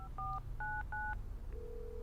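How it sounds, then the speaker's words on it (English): Touch-tone telephone keypad dialing: three short paired-tone beeps in quick succession, then a steady lower tone, over a low background rumble with no talk. "she rang Kate at 7:15"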